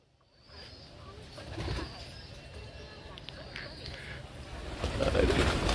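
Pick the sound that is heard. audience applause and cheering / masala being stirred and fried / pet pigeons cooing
pet pigeons cooing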